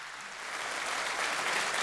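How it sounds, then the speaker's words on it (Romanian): Audience applause at a carol concert in Medias, a steady dense wash of clapping that swells slightly toward the end and continues alone, with no voices over it. "Aplauze!"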